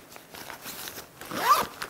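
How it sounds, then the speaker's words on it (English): Someone pulls the zipper along the front compartment of a backpack in short, quiet rasping strokes that build to a louder, quicker zip near the end. "We have a zipper here on this compartment."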